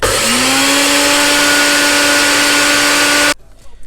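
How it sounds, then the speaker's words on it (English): A blender blending seeds whirs loudly at a steady high pitch for about three seconds, then cuts off abruptly, leaving near silence. "Now just add it to my blender."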